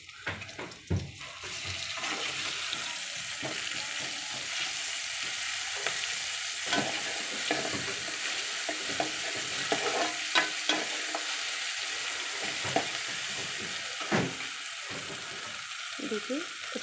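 Onions frying in a pan with ginger garlic paste added: continuous sizzling hiss with repeated scraping and stirring knocks from a spoon throughout, close and steady, with occasional brief water sounds.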